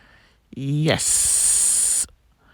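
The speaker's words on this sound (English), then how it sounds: "that is me adding some onions, just a little bit of onions into the" Onions hit melted butter in a hot pan over high heat and burst into a loud sharp sizzle that holds steady for about a second before cutting off, following a brief spoken word.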